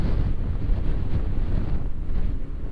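Strong wind buffets the microphone of a delivery rider outdoors in Metro Manila, a loud, continuous low roar with gusty rumbling and no voices.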